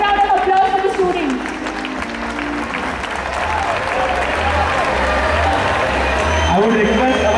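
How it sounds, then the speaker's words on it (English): Loud applause and cheering for prize-winning students at a school awards ceremony, dense clapping and crowd noise filling the room throughout, with voices and brief tonal sounds at the start and end. "have a big round of applause for the students"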